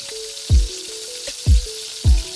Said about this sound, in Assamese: পেষ্টটোৰ আমি কেঁচা গোন্ধটো নোযোৱালৈকে এইদৰে তেলত অলপমান সিজাই থাকিম